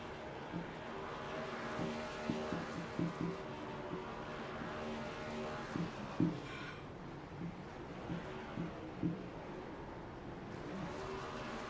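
Race car number 83 at Atlanta runs toward the start-finish line as a steady engine drone under crowd ambience, with a few brief louder bursts as cars pass.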